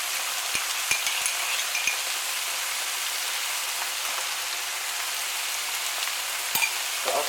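Curried steak and onion pie filling boils and bubbles steadily in a pan, a dense, close sizzling hiss with occasional sharp pops and crackles.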